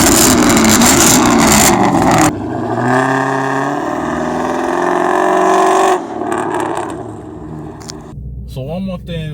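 Car exhaust with the catalytic converters removed, revving loudly and steadily close by, the engine note rising and falling across several pulls before dropping off near the end.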